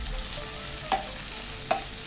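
Onions sautéing and being stirred in a pan for a Kerala-style chicken fry with special masala, a soft steady sizzle with two brief scrapes of the spoon, no talking.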